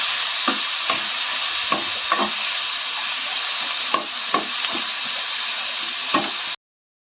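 Brinjal masala sautés in oil in a pan for a Tamil-style ennai kathirikai, with a constant close sizzle broken by repeated scraping stirs of a spoon, before the sound cuts off abruptly.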